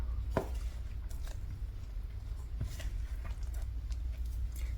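Sourdough starter being mixed into flour in a bowl, soft wet squishing and scraping strokes with a few sharper clicks, close and steady over a low background hum, no talking.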